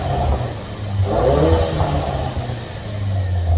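Ford Focus RS engine idling with its X Force exhaust valve open, a steady deep rumble with a slight swell partway through, close and loud with no talking.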